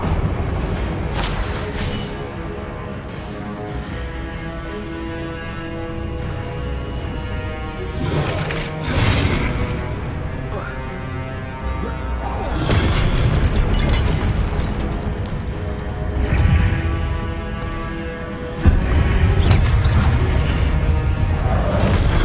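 Fiery spell blasts from Incendio and Confringo in the Hogwarts Legacy video game, loud repeated bursts and whooshing booms over a dense, busy game soundscape with music, several sharp impacts spread across the scene.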